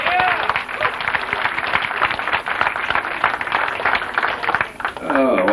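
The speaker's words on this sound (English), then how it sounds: "Let's have a round of applause for all our students." An audience at a live show applauds the performing students, a continuous crackling wash of clapping that holds steady throughout while someone speaks loudly over it.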